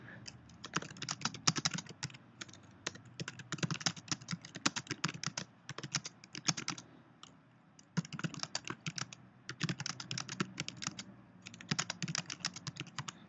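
Steady bursts of typing on a computer keyboard while writing a document in Pages, rapid close key clicks with a few short pauses and no talk.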